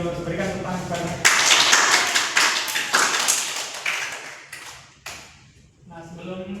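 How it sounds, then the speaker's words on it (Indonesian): In a physics classroom, a brief patter of hand claps from a small group starts abruptly after a spoken line and tapers off over a few seconds, with talking before and after. "Berikan tepuk tangan kepada."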